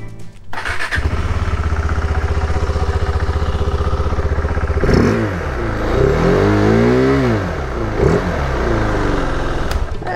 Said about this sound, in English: Let's actually see what this sounds like without the air intake in.